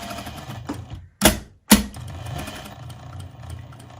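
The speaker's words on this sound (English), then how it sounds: "I'm definitely going to back stitch right there" A sewing machine back stitching a fabric cardinal ornament gives two short, loud mechanical bursts close together, set against a quiet room hum.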